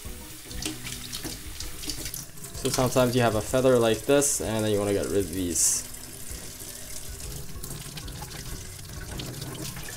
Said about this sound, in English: we wanna wash this very lightly with running water.